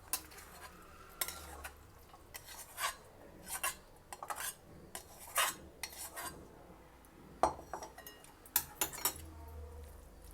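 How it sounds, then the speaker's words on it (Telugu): A spoon stirs warm tempered seasoning into a pot of cooked rice for a Dasara festival offering, giving soft scrapes and occasional light clinks against the vessel in uneven bursts, close and quiet, with no talking. "ఇప్పుడు మనం ఈ రెడీగా ఉన్న అన్నంలో ఇది వేసేసి బాగా కలిసేలాగా కలుపుకుందాము"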